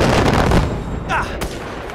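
Loud bursts of mounted-gun fire in the video game Far Cry 4 crack out up close, with a sharp report near the middle and other game noise and a voice mixed in.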